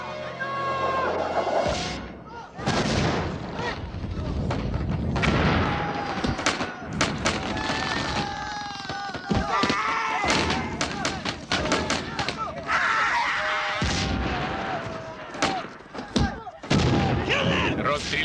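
Gunshots ring out in a scene from an adventure film, coming as sharp, loud bursts, some single and some in quick clusters. They are mixed with shouted dialogue and other film sound.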